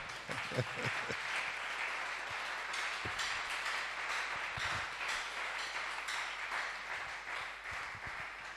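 A church congregation applauding to thank the Lord, sustained clapping from many hands that holds steady throughout at moderate level, with a few sharper nearby claps standing out.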